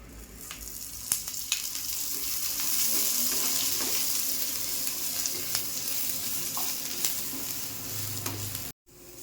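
Onions fry in oil for a Malvani-style country chicken curry, with a steady close sizzle, occasional stirring clicks and scrapes, and a sudden cut to silence near the end.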